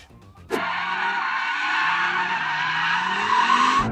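An Audi RS3 drifts hard under full power, its tires skidding and squealing in a loud, sustained screech that starts abruptly and runs continuously over the wavering roar of the engine, close by.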